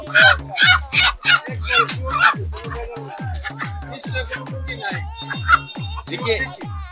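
Native chickens at a meat shop cluck in quick, repeated bursts, close and busy, with an occasional higher call among them.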